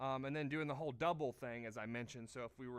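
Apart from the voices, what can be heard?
No everyday noise stands out behind the speech.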